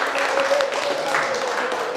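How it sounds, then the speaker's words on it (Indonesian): A school class claps together in a classroom, a dense, steady patter of many hands lasting a couple of seconds, with voices faintly over it. "kita beri tepuk tangan dulu"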